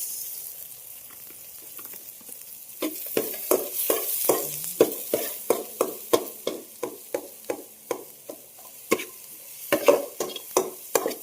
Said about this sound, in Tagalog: gusto ko igisa muna para lumabas yung lasa. Tapos, sibuyas.